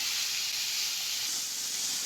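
Onion and capsicum frying in a pan for chicken rolls, a steady loud sizzling hiss that continues without a break, close up, with no talking.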